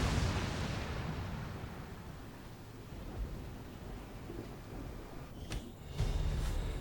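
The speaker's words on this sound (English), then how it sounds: "Detonating charges." Explosive charges going off in XCOM 2: a loud, low rumbling blast filling the whole stretch, rolling on steadily with a couple of sharp cracks near the end.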